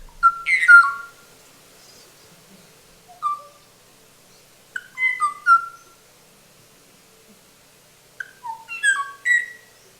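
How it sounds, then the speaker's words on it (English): Three bursts of haunting, halting Hawaiian o'o bird whistles, each a short cluster of fluting notes, separated by silence; clear and close. "you were just hearing an o-o"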